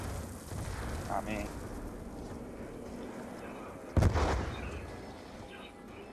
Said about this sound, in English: Whichever mic I hear the explosions coming from.